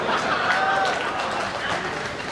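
A Hindi poetry recital audience claps steadily and densely for the whole stretch, a continuous wash of applause with crowd noise mixed in.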